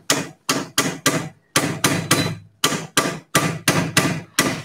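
A hammer strikes a part of a power tool being dismantled, landing about a dozen sharp, loud metallic blows in grouped, fairly regular bursts, close up with no talking.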